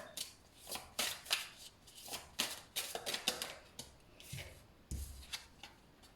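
Oracle cards being shuffled by hand during a card reading, a run of quick papery riffles and slides, close and fairly quiet, with brief pauses between bursts and no voices.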